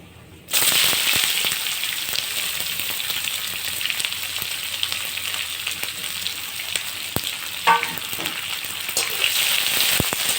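Sliced onions for chicken curry dropping into hot oil in a pan and frying, a sudden start of loud, steady hissing and crackling sizzle that carries on with occasional pops and a stir.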